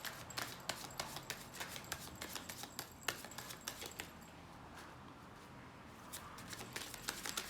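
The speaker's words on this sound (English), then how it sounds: "Last shuffle, then you take from the middle." Tarot cards are shuffled by hand in quick riffling bursts, a series of crisp snaps and rustles at close range, quiet overall and without talk.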